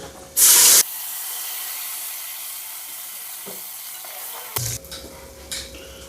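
Ground onion and green chili paste hits a hot pan with a loud burst of spray and hiss, then settles into a steady sizzle. A clatter near the end brings back a louder crackle.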